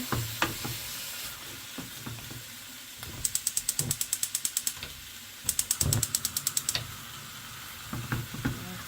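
Food being stirred in a skillet holding beetroot dumpling, rice and oxtail, giving soft scraping knocks under a low sizzle, with two bursts of rapid ratcheting clicks midway.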